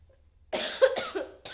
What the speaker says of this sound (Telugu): ఈ దగ్గు అయితే మనకి తగ్గట్లేదు